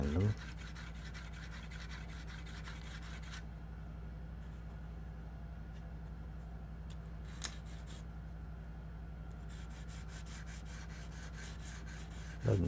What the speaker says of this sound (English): And then you do a little bit of sanding.